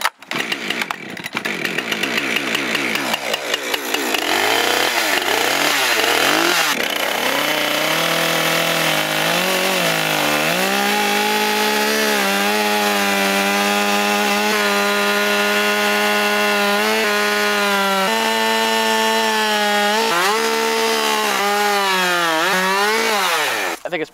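A chainsaw mills lumber from partly rotten wood, roaring loud and close with a continuous high-pitched whine that rises and dips as the engine revs and the chain bites into the log.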